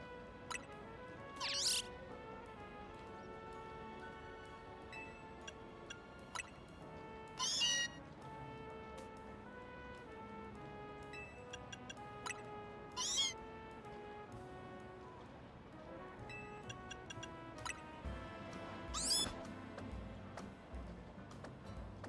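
Meowth cries in the video game Pokémon Legends Z-A, sounding as several short cat-like meows spaced every few seconds over quiet, steady game music.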